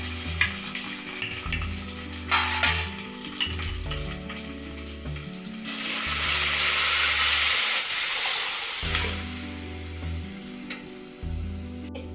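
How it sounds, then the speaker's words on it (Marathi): Dal poured into a hot tempering of garlic and curry leaves, a crackling sizzle that suddenly swells into a loud, rushing hiss of frying and steam, then settles back to a softer sizzle with stirring, with no voices. "आता आपण याच्यामध्ये डाळ घालूया"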